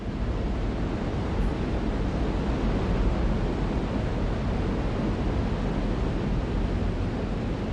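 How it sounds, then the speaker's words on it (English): Continuous roaring rush of a waterfall crashing against rocks nearby, a dense, unbroken wash of noise with no pauses. "the spray of the falls that's kicked up when the water crashes against the"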